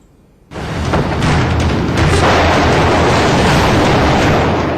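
An HQ-9 missile launches with a sudden loud blast that swells into a sustained, heavy rocket roar and keeps going without a break.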